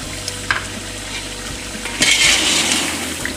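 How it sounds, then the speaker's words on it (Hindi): A spoon stirs chicken pulao masala in a large pot, with a few sharp scrapes and clinks against the metal over a soft sizzle, building to a louder, sustained stirring and frying burst partway through. "अब अच्छी तरह मिक्स करें।"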